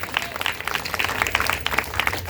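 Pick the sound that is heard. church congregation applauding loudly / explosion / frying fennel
church congregation applauding loudly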